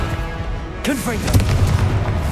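The Confringo fire blast spell in Hogwarts Legacy goes off as a sudden booming burst with swooping magical whooshes, followed by a rumbling, crackling tail among other game sounds.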